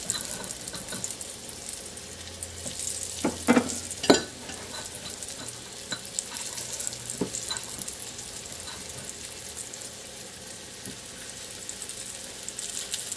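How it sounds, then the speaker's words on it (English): Flour-coated, seasoned lamb chops brown in a pan with a soft, constant sizzle, broken by a few louder clatters and scrapes early on, then settling into a quiet fry. "Coat your lamb chops in seasoned flour, shake off the excess, and place them in the pan."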